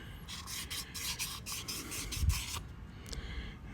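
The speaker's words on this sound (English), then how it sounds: "Polish it as best as we could" Rhythmic rubbing strokes of fine wet and dry abrasive paper polishing corroded metal, soft and close, repeating in a steady back-and-forth pattern.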